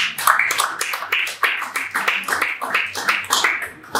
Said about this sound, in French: Applaudissez pour moi quand même.